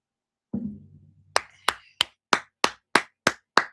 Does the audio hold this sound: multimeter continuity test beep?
no